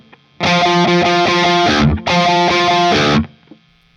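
Distorted electric guitar plays a riff, two loud, thick sustained phrases separated by a brief gap, close and alone.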